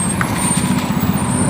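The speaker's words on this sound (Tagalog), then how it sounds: "Ayan o, laking truck to." A large truck on a road in Montalban, Rizal, a loud steady low engine rumble close by with a faint high whine above it, no talk.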